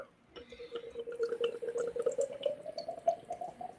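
Beer poured from a can or bottle into a glass, a hazy New England style brew with mango and peach puree, gives a steady liquid stream with a rising gurgling fill that climbs in pitch as the glass fills.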